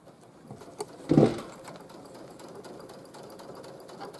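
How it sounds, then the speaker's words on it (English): A sewing machine runs a straight stitch along a hem at reduced speed, a faint, close mechanical hum with rapid clicking and a brief louder burst near the start. "we're just going to sew a straight stitch"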